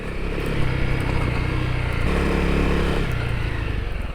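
A Honda CRF250L dual-sport motorcycle rides a dirt trail, its engine droning steadily and close throughout, with a slight drop in pitch partway through as the rider eases off.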